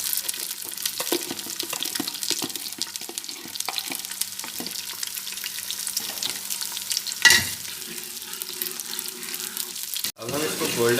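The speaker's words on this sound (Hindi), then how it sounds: "अब हम इसको गोल्डन होने तक फ्राई करेंगे" Onions sizzle and crackle in hot oil in a pressure cooker for mutton biryani, with occasional stirring scrapes against the pot; a brief clatter near the end.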